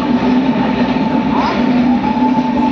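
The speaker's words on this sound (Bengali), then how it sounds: "আমাদের ট্রেন ছেড়ে দিয়েছে" A passenger train pulls out on the way to Mathura, giving a loud steady rumble with a sustained humming drone and faint rail clatter, close and continuous with no voices.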